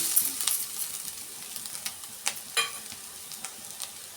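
Curry leaves and grated coconut fry in a pan for a sambar, a faint crackling sizzle broken by a few sharp clinks and scrapes of a spoon against metal.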